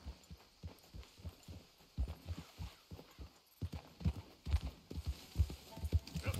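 Horse hooves clip-clop in a steady, repeating rhythm in Red Dead Redemption 2, fairly close and moderately loud, with a low thudding quality and faint background ambience.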